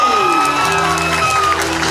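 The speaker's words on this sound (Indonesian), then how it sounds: "Tepuk tangan untuk kelas 9E" Crowd at a junior high school graduation ceremony in Jakarta applauds and cheers as a ninth-grade student is called up, steady loud clapping with shouts and a sustained tone running underneath.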